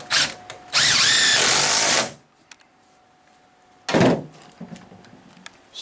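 A power drill drives a 3.5-inch Spax exterior decking screw into wood for a garden arbor, one loud sustained whirring burst, then a short second burst, with workshop clatter between.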